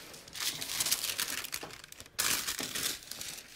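Paper crinkling and ripping by hand at an art desk while a character drawing is reworked, two bursts of bright rustling tearing separated by a brief pause, close and fairly quiet.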